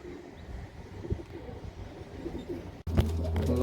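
Domestic pigeons coo softly outdoors as a small flock settles near the ground, low murmuring calls under steady background noise, with a sudden louder rush near the end.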